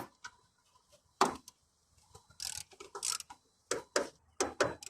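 A ratchet wrench tightens the last front shock bolt on a VW Passat B7, giving short bursts of rapid clicking strokes separated by pauses, close and crisp.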